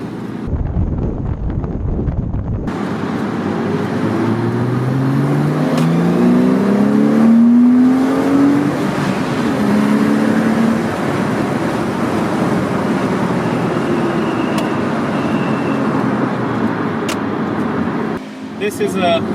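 A Porsche Boxster S with a naturally aspirated 3.2 litre six-cylinder engine runs steadily, a close continuous rumble rising slightly in pitch as it revs, heavy wind buffeting over it, with speech in the background.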